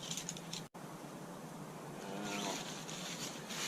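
Bees buzz faintly at a backyard campsite, one brief buzzing pass rising and fading near the middle over a quiet outdoor hush.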